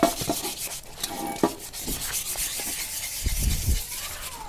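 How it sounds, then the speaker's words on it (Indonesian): Hand sanding the body of a bicycle frame being restored for repainting, a steady scratchy rubbing with irregular strokes, close and fairly quiet, with no voices. "Guys, kita gosok sikit bodi dia."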